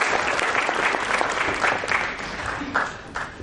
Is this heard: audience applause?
yes